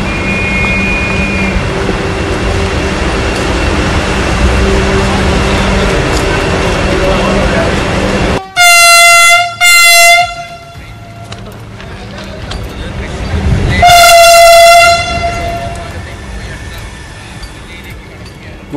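A Vande Bharat Express train runs along a Kerala line. Rushing noise gives way to two short blasts of its horn, then a longer, louder blast, close and dominant.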